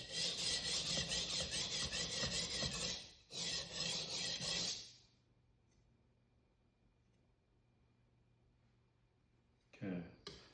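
Global carving knife drawn across a waterstone while sharpening, loud close rasping strokes in two long passes, then quiet, then another brief stroke at the end.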